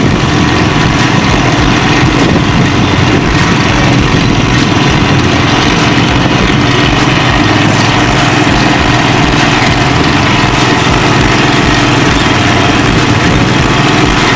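A tracked autonomous towing robot drives over rough terrain at about five or six miles an hour, giving a steady, loud mechanical rumble and drone that continues unbroken throughout.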